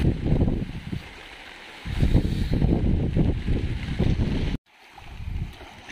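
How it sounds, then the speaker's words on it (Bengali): Stormy wind during heavy rain by a Sundarbans river buffets the microphone in loud, rumbling gusts that rise and fall, with a sudden brief lull before the roar returns. "বাইরে প্রচণ্ড বৃষ্টি হচ্ছে, তার সঙ্গে ঝোড়ো হাওয়া বইছে"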